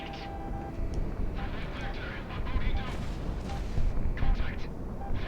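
Missiles streaking and exploding in the aerial combat game Project Wingman, a dense roaring barrage of rumbling blasts and jet noise that swells louder over several seconds.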